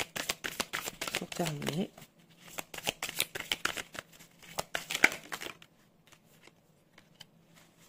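Oracle cards shuffled and drawn during a tarot-style reading, with crisp riffling and flicking bursts and short papery snaps under and between a woman's French speech, ending in quieter faint card handling.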